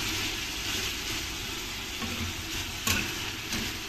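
Soy sauce for chicken adobo hisses and sizzles steadily in a hot pan, a dense continuous frying crackle with a brief louder burst near the end, no voices.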